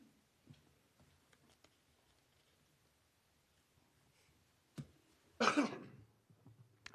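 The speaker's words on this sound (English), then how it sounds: "I got a bad cough" A single bad cough bursts out loud near the end of a quiet council meeting room, after a stretch of faint background rustle and small ticks.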